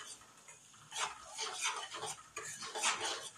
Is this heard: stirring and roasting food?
yes